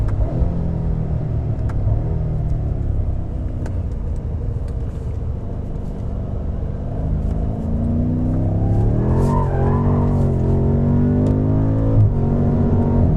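BMW M5 F90 on a race track with stability control off in rear-wheel-drive mode, a steady loud engine drone heard from inside the car that swells as it accelerates, with tire and road rumble underneath.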